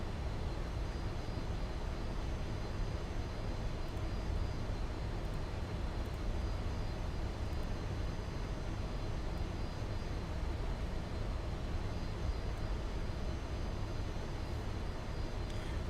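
A jet airliner in American Airlines retro livery passes by in the Just Flight F28 flight simulator, a steady broadband engine roar holding even for the full span with no talk.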